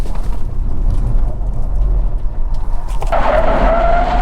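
Tires of a Kia EV6 GT skidding in drift mode on rough pavement, a loud continuous scrub of rubber under steady motor noise that rises into a sharper squeal near the end, close and with no talking.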